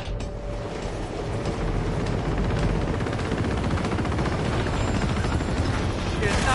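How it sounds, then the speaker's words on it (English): Helicopter gunship in the video game Uncharted 2 keeps up a steady rotor roar with dense bursts of gunfire throughout, loud and continuous with no pause. "Send in the gunship!"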